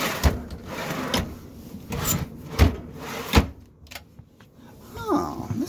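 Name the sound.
sliding silverware drawer in RV kitchen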